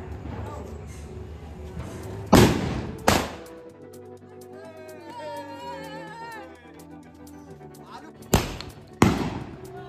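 An aloo bomb firecracker explodes with two loud sharp bangs, then two more later, separated by a stretch of talk and background noise.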